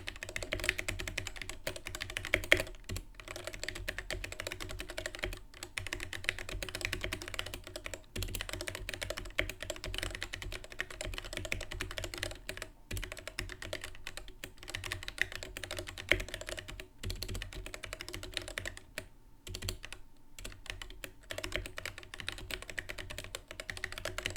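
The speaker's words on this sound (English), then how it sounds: "here is the sound test from my old keycaps" Steady, rapid typing on a custom mechanical keyboard with Gateron Black Ink switches, close and continuous, with dense clicky keystrokes and brief pauses.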